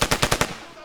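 An M2 heavy machine gun fires in a military video game: one short, loud burst of about five rapid, evenly spaced shots, then a quick fading tail.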